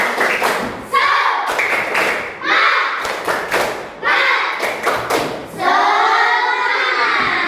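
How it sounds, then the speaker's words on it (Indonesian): A school class performs a rhythmic tepuk semangat spirit clap, bursts of patterned hand claps and thumps in quick groups, loud and close, with chanted voices mixed in between the claps. "Mari kita tepuk semangat."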